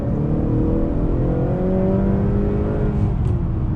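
A 2019 Honda Accord Sport 2.0T pulls hard under acceleration, its engine note climbing steadily as a smooth, continuous drone with rising harmonics, heard close and loud from inside the car with no talking.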